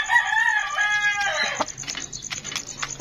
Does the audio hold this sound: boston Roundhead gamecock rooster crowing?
yes